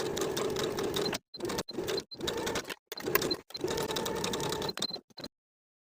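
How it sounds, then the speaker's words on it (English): A sewing machine stitches a vest lining with a backstitch at the start and end, running in a series of short start-stop bursts with brief pauses between them, close and clear. "We're going to be starting and stopping our stitching at that 1 inch crease that we created in the lining on both sides."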